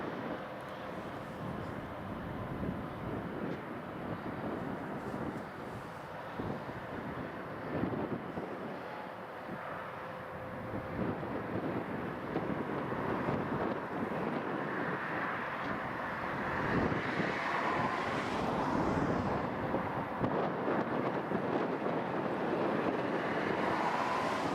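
Boeing C-17 military transport aircraft from Travis at Prestwick Airport, a broad steady jet roar that grows louder toward the end, heard outdoors alongside wind buffeting the microphone.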